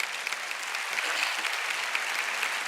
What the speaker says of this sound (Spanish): Dale al Espíritu Santo un aplauso fuerte